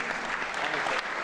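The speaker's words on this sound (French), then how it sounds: "Vous pouvez l'applaudir encore." A short, dense stretch of crowd applause in a ceremony hall in Honfleur during an academy induction, many hands clapping steadily at an even level with no break.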